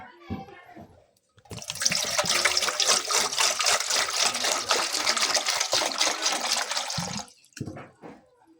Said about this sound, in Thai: นี่เห็ดอะไรก็เอาไปล้างคือกัน